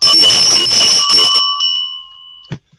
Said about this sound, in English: I open the meeting by ringing the bell.